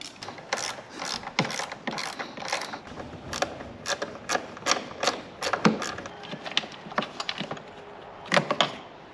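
A ratchet wrench with a size 10 socket working bolts loose from the front of a Can-Am Spyder RT motorcycle: rapid close clicking bursts in an irregular rhythm, with brief pauses and no talking.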